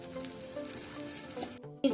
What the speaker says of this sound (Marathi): मिरची भाजले